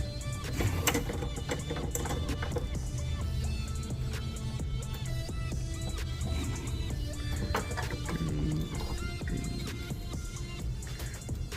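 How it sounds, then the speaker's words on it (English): Two-hundred-pound test fishing line pays off a reel spool with a steady, dense mechanical whir that runs continuously at a fairly even level, with faint background voices underneath. "That way y'all can see the line coming off the spool."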